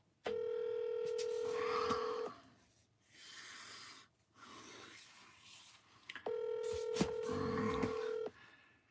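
A telephone call ringing out unanswered: two long electronic ring tones with a quiet gap between them, heard close and clear over faint room noise.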